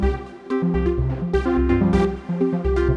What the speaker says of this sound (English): So here I have a voice going with a sequence, a swarm and sine going through a filter.